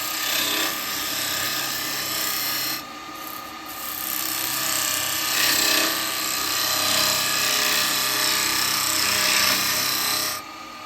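A wood lathe spins a laburnum bowl while a spindle gouge takes cuts, giving a loud, continuous close-up hiss and rasping scrape with a steady motor hum throughout and brief dips as the tool lifts off, no talking.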